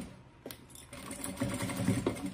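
Sewing machine backstitching over a large double pencil case made from sublimated fabric scraps, with the lining pulled back; a steady close mechanical whir with short rhythmic clatter, alone without talk.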